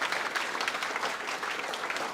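Steady applause from a small group at an academic group presentation, continuous clapping throughout with no talking.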